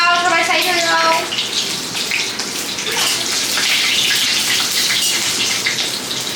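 Green chillies and nigella seeds hit hot mustard oil while cooking mustard hilsa, giving a loud, steady, close-up crackling sizzle that runs throughout after a brief voice at the start.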